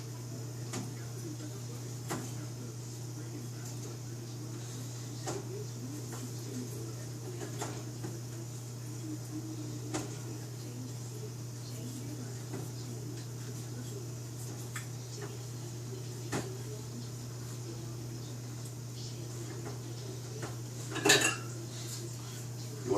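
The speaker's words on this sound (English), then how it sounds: "take your propane cylinder, screw that in" A propane cylinder is screwed into a Camp Chef Deluxe Outdoor Oven, giving sparse, faint metallic ticks and clinks over a low steady hum, with a sharper rattle near the end.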